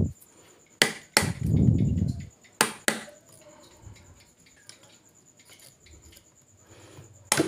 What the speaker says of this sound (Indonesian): Baut sudah terlepas dan kita coba bongkar tutupnya.